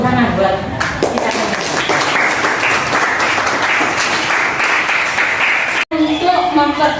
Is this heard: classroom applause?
yes